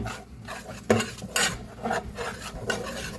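A spoon stirs hot cocoa in a pot, giving soft scraping swirls and a few sharper clinks against the metal, quiet and close, in irregular strokes.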